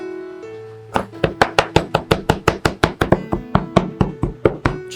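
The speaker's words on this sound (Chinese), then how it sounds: "然后剁成蒜蓉，" A kitchen knife minces peeled garlic cloves into paste on a cutting board for mapo tofu, about sixteen sharp, evenly spaced chops starting after a second of quiet, loud and close.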